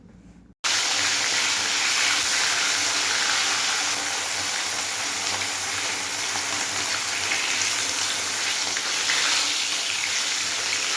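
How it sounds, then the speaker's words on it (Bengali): Pieces of rohu fish fry in hot oil in a kadai, giving a loud, continuous crackling sizzle like heavy rain that starts abruptly and holds steady throughout. "এবার মাছগুলোকে আমি ভালোভাবে এপিট ওপিট করে ভেজে"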